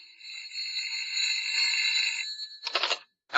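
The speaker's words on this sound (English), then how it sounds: "I was suddenly startled to attention by the ringing of my phone." Telephone bell ringing in a live radio theatre drama, a continuous bright electric ring for about two seconds, then a short second burst after a brief pause, close and clear with no talk.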